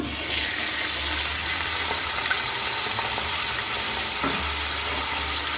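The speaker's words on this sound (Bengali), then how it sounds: "কড়াইতে তিন টেবিল চামচ সাদা তেল নিয়ে গরম করে নিয়েছি এখন আমি উচ্ছেটা দিয়ে দিচ্ছি" Bitter gourd frying in hot white oil in a wok on medium gas: a loud, steady, close sizzle with a dense hiss that runs unbroken throughout, with no voices.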